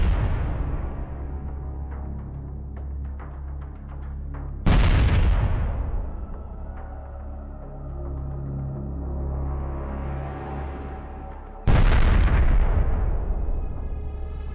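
Two heavy explosions strike a tank and its accompanying infantry fighting vehicle in combat in Ukraine, each a sudden loud boom followed by a long rumbling decay, over a low continuous drone.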